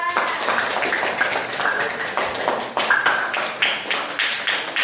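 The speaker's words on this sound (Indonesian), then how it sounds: "Beri tepuk tangan dari kelompok 2" Classroom group clapping for a student group, a run of distinct sharp hand claps from a small number of people in an irregular patter, with some voices mixed in.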